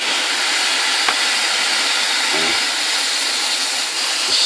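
A homemade record cleaner's motor runs with a steady, loud whirring drone, like a small vacuum, holding evenly throughout with a couple of faint clicks.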